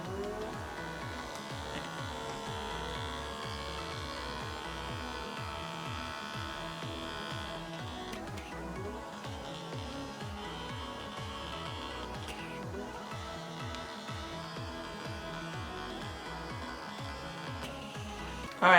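A handheld blackhead remover vacuum runs at its highest speed setting, giving a steady close electric motor hum and buzz with faint rhythmic pulsing that continues throughout.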